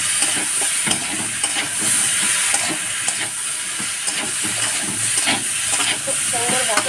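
Small fish with raw tomato and potato frying in a pan, a steady sizzle and hiss with occasional stirring scrapes running throughout.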